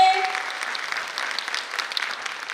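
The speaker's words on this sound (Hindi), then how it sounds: "अपने अपने पेरेंट्स के लिए एक बार जोरदार तालियां हो जाए" An audience at a pre-primary school annual function claps for the parents, with dense sustained applause that starts strong and stays even throughout, alone without talk.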